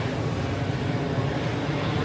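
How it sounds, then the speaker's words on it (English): Low-flying airplane passing overhead in a Vietnamese city, a steady, loud broadband roar that fills the short stretch without letting up. "Hear the plane overhead, it's so low."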